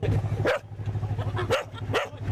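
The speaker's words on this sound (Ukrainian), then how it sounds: "А цей песик талісман екіпажу." A small dog, a crew mascot at a yacht regatta, barks several times in sharp yaps over steady background noise and low engine-like hum.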